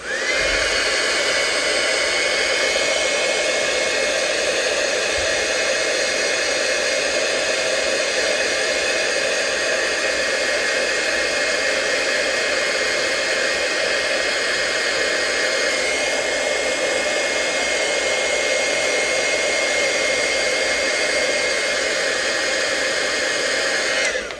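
A heat gun blows hot air with a loud, constant roaring hiss that runs unbroken from start to finish, close by.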